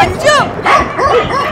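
A dog barks loudly and close in a comedy skit, several quick yelping barks in a row, rising and falling in pitch, with no other voices over them.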